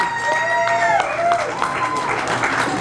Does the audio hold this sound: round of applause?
yes